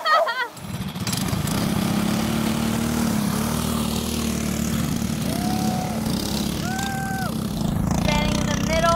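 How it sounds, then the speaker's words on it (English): Race cars on a track roar past close by, with a loud continuous engine drone that swells as vehicles pass, plus faint whining tones near the end. "Standing in the middle of the track, we can see all of them driving by."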